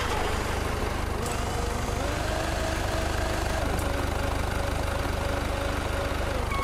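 A vehicle engine idles in the video game Beer Factory, a steady low rumbling drone that runs throughout at an even level with no break.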